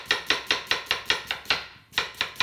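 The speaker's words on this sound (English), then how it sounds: "Chop a little bit the onion like this." A knife chopping onion on a board, a crisp rhythmic series of about a dozen evenly spaced chops with one short pause, close and clear with no talking.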